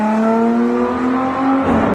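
An Audi V6 engine holds a steady, throaty drone with a strong tonal hum that climbs slightly in pitch. The sound is loud and close, then cuts off sharply at the end. Nobody speaks.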